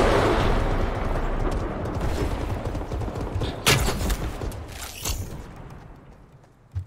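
Gunfire in Fortnite during the Avengers Endgame crossover event: a loud, busy barrage of shots and blasts that thins gradually and ends with a final crack.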